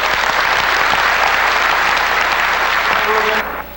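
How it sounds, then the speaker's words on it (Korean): An audience at a Korean public hearing applauds loudly and steadily for a donor's pledge. The clapping is dense and close and lasts several seconds before cutting off abruptly at the end. "여러분 박수 한번 주세요."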